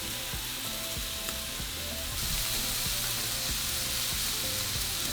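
Queso panela cheese sizzles on a hot grill for a molcajete mar y tierra, a steady close crackling hiss with faint pops and a brief scrape, growing a little brighter midway.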